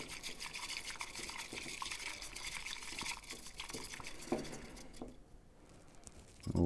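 Ceremonial or culinary matcha is whisked briskly in a zigzag motion, giving a continuous wet, frothy swishing close by that stops near the end.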